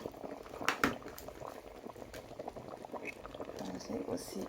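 Fisherman's soup with mussels and shrimp simmering in a covered saucepan, a soft, irregular bubbling with a few louder pops and light clatter near the start.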